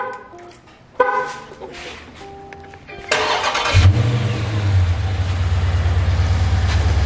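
A wide-body Dodge Charger Scat Pack engine cranks and fires up midway with a sharp burst, then settles into a loud, deep, rumbling idle that stays steady and close.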